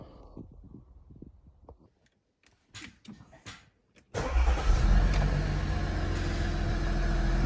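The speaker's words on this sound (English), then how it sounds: "Now we just gotta start the car." A few clicks and rattles, then an Audi SQ5 (2013 onwards) engine cranks and catches at once after a 12V battery replacement, settling into a loud, steady idle up close.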